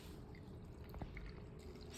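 Water drains from the bottom of a Kenmore front-loading washing machine as a faint, close trickle with soft drips under a low background hum.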